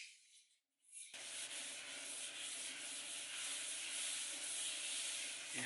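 Solid bowl finish is rubbed by hand onto an end grain wooden cutting board, making a soft, steady, continuous swishing rub that is quiet and close, with no voices.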